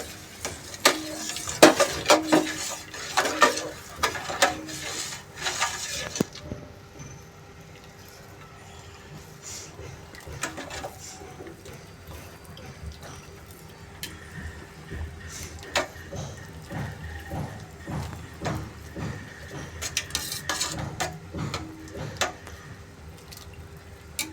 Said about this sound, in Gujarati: ખાંડ નાખ્યા પછી ખાસ હલાવવું પડે.